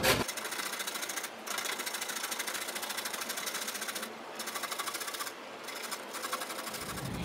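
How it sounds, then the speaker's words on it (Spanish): Carrots are rubbed over the finest side of a hand grater, giving a fast, even, continuous rasping buzz with a few brief pauses between strokes, close and fairly quiet. "Vamos a rayar las zanahorias. Yo voy a utilizar la parte más finita del rallador"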